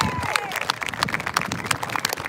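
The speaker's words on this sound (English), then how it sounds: "give her a round of applause" Audience at a candlelight vigil for missing people breaks into applause for an outreach coordinator, dense clapping with a few cheers and a voice briefly heard over it, continuing steadily for a couple of seconds.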